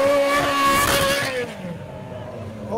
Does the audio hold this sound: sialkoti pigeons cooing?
no